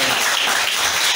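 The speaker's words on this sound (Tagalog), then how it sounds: "Isang malakas pa na palakpak para sa ating Diyos na buhay." A church congregation claps loudly during a worship service, a dense, steady wash of applause filling the whole moment with no break.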